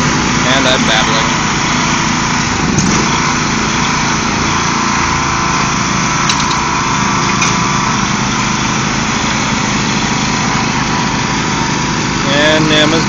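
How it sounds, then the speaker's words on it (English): A lawn mower runs with its blades engaged, giving a steady, loud engine drone throughout, with a voice talking faintly at moments beneath it. "The mower was already on."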